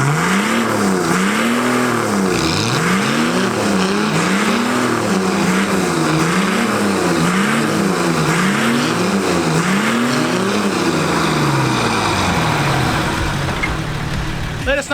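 Two Nissan Patrol TD42 diesel engines, one turbocharged and one naturally aspirated, rev together in repeated rising and falling sweeps, loud and close.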